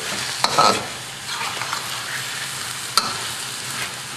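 Wedge-cut onions are stirred and tossed in a hot pan with a spatula, giving a steady sizzle with a couple of sharp scrapes and clacks, close and moderately loud, with no talking.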